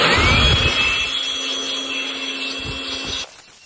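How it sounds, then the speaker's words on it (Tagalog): A blower runs steadily as it air-dries a freshly cleaned item. The close, loud, whooshing whine holds even and then cuts off abruptly near the end. "So i-blower natin siya ng konti para mas mabilis matuyo."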